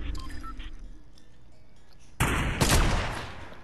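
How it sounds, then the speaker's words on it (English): Gunfire in the Fortnite video game bursts in loud and sudden partway through, a dense rattling volley following a quieter stretch of background game ambience. "there's people shooting at us"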